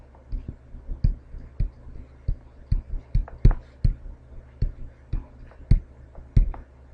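A run of calculator keys pressed one at a time to work out the tangent of 42, making about a dozen close, crisp plastic clicks at an uneven typing pace, with no talk over them.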